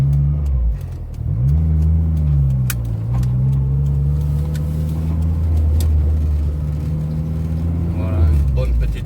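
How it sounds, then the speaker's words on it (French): A Honda Civic turbo four-cylinder with about 300 horsepower revs up and holds high engine speed, its tone climbing then settling into a sustained loud drone, with a person talking over it. "Un petit 4 cylindres qui prend des tours comme ça, c'est vraiment beau à voir et à entendre."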